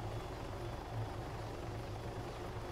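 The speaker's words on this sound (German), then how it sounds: "Wirklich? Im Heli?" A helicopter flies in the military video game Arma 3, its rotor thumping in a steady rapid pulse over a continuous engine drone, close and constant with no talk.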